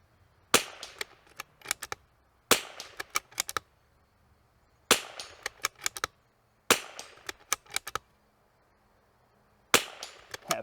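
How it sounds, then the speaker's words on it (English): Rifle shots from an l3I Stinger fired through a ZeroTech Trace Advanced 5-30 scope ring out in five evenly spaced loud cracks, each followed by a few sharp metallic clicks and echoes, with quiet gaps between. "Let me shoot this through the scope."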